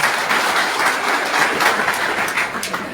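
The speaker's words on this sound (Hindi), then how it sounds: "जोरदार ताली इनके लिए ज्यादा लगाना।" A political rally crowd claps steadily and densely for a few seconds, a continuous wash of applause with no pauses.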